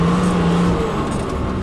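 An old 4WD engine revs loudly and continuously as it pushes through sticky mud, a close, strained roar that barely lets up.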